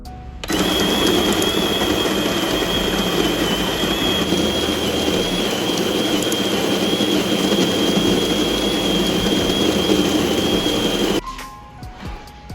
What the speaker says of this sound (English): First step is to grind some beans.